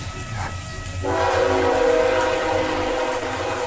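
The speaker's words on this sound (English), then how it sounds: "chiming in with Night Train engine sound" A night train engine sound effect: horn blares in sustained tones over a steady rumble of rolling rail cars, loud and close after a quieter opening.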